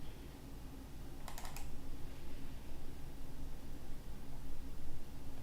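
Typing on a computer keyboard at a desk: soft, rapid key clicks run steadily under a constant hiss of background noise, with a brief cluster of sharper clicks near the start.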